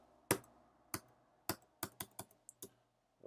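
A computer keyboard typed in sharp, separate clicking keystrokes, a few spaced out and then a quicker cluster, close and fairly quiet with no talk.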